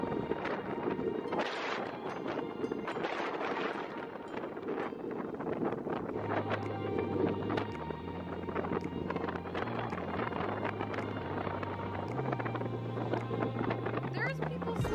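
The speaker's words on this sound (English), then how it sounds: "it is so windy right now" Strong gusting wind on a beach during Hurricane Florence buffets the microphone in a constant low roar, with a steady hum running underneath through the second half.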